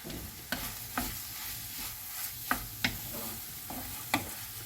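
Diced tomato and finely chopped green chili sauté in a pan with a soft, steady sizzle, broken by sharp clicks of a spoon stirring every second or so.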